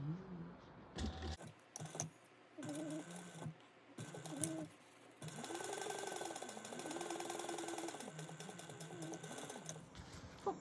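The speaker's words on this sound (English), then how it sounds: "So then we're gonna sew down each side at a 1/4 inch seam allowance" A sewing machine stitches down the sides of a fabric bag at a quarter-inch seam, running in short bursts at first, then in a longer steady whir, with handling clicks between runs; quiet and close.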